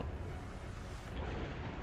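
A close explosion in a modern warship battle game, a dense, sustained low-heavy boom and rumble that fills the whole two seconds at steady loudness with no voices over it.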